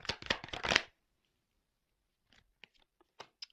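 Tarot cards shuffled and drawn by hand, a quick burst of crisp riffling followed after a pause by a few soft, scattered card flicks and taps, close and quiet.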